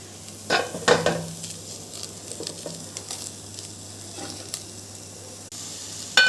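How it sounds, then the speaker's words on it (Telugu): Vegetables fry gently in a little butter in a pan, a soft, even sizzle with a low background hum and scattered clinks and scrapes of a utensil, a couple of sharper knocks near the start and end. "ఫస్ట్ చిన్నగా కొంచెం బటర్ వేసుకుని ఇవన్నీ కొంచెం ఫ్రై చేసుకోవాలి"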